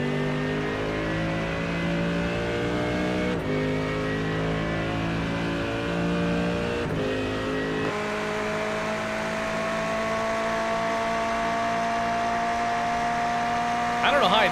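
Race cars at Monza, including a Ferrari and a V8 car, produce steady loud engine drones with shifting pitches throughout, and the engine note rises near the end; a commentator talks over them.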